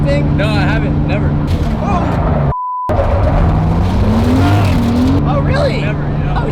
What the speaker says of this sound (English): Have you been in the car with me drifting?